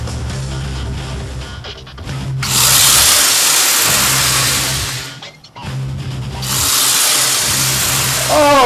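Slot cars racing on a track at the Thunderdome, two loud bursts of high whining motor noise each lasting a few seconds, separated by a short lull, with a low hum underneath.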